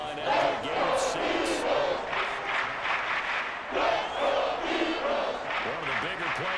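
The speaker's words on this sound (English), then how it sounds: "The crowd getting into it as we come up on a big third down." Stadium crowd in the Madden NFL 24 video game building noise before a big third down, a broad swelling roar in waves with shouts, moderately loud and continuous.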